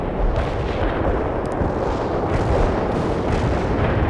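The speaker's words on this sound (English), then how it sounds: "You have incoming rounds, Romano." Incoming artillery fire in the World in Conflict video game: a dense, continuous barrage of heavy booming impacts and rumbling blasts, loud and sustained with no pauses and no speech.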